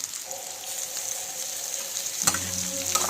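Raw prawns sizzling in a pan for prawn iguru as they are stirred in, a steady bright frying hiss with a louder clatter of stirring near the end.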